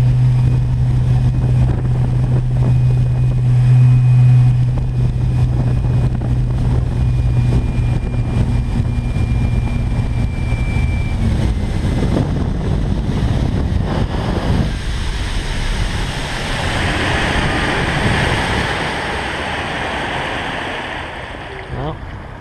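An electric boat cruises steadily across a bay in the morning, with a continuous motor whine and a rushing sound of water and wind. The noise stays loud and even throughout, then turns to broader water noise near the end.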